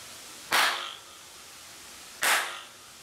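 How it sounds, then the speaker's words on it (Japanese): Two sharp Shinto ritual hand claps (kashiwade) struck inside a shrine building, each a crisp crack followed by a lingering reverberant ring, spaced nearly two seconds apart against a quiet room hiss. "でここでもう一回柏手を打ってみますね。"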